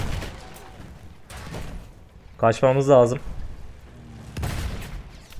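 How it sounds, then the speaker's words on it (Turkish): Gunfire and booming explosions from the Battlefield 1 video game come in scattered bursts, with a louder rattling volley in the middle. Someone speaks over the action at times. "Kim sıkıyor lan biri bir şey atıyor buraya."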